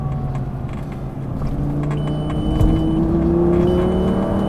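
A Lamborghini Gallardo engine pulls hard at full power, its tone climbing steadily through the gears with a loud, continuous rising drone heard from inside the car, and no talking.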